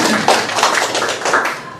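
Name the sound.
applause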